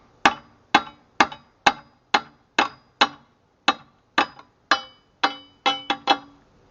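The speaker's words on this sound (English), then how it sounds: "So I'm tightening this bolt up" A bolt being tightened with a wrench on a homemade tow bar, a series of about fourteen sharp metallic clicks or knocks at an uneven pace, close and clear with no talking.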